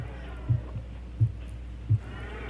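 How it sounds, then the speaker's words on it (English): A film's heartbeat sound effect pulses three times at an even pace, low and thudding over a steady hum, with no talking. "you hear the heartbeat"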